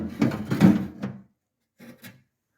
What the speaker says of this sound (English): You simply insert it into the door this way, and then it swings up